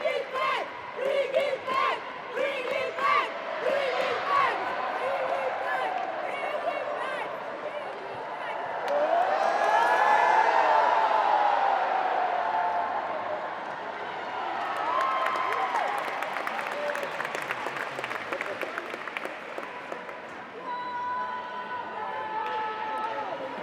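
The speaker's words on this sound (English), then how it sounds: "The crowd is chanting." Crowd at the Dome in Swakopmund, Namibia, chanting and cheering through a women's Namibia versus South Africa match, a steady roar that swells around the middle with claps and court sounds, under commentator talk.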